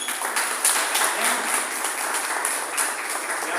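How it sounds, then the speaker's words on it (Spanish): A church congregation at a Sunday service claps together in sustained, even applause, a dense wash of hand claps with no break, loud and close throughout. "¿Cuánto le damos un aplauso al Señor?"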